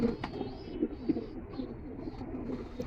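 Pigeons coo in a low, repeated murmur, a steady soft burble of several birds close by with brief chirps breaking through now and then, and no talk.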